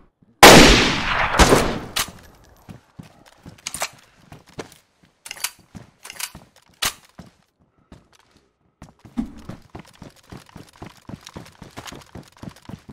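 Gunfire in DayZ: a loud opening burst of close shots, then sparse single reports and clicky mechanical sounds, ending in a run of quick, sharp pops spread across the span.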